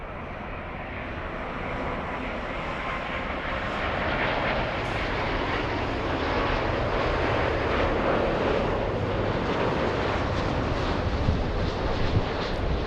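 An airliner on the flight from Paris, near Los Angeles, roars steadily as a broad jet rumble that swells slightly after the first few seconds and holds, with some wind buffeting and no talk.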